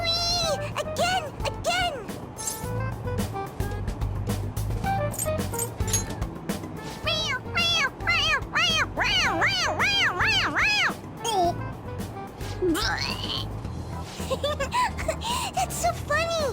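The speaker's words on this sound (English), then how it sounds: "It meows when you press on its head." A meowing cat toy squeezed on the head in the Persona 5 Royal video game, giving repeated bright meows over game music, with voices talking around it.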